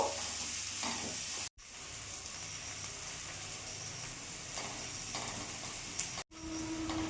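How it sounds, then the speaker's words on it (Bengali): Garlic with turmeric and chili powder stir-fried in a pan, a continuous close sizzle with scraping stirs, briefly cut to silence twice. "এবার ভালো করে মিশিয়ে আমি একটু ভাজা ভাজা করে নেব"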